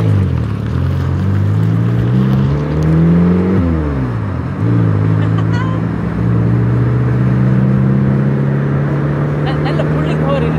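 A Mini Cooper S John Cooper Works engine and turbo accelerating hard: a loud, close engine note climbs steadily in pitch, drops briefly at a gear change, then rises again, with a constant roar throughout.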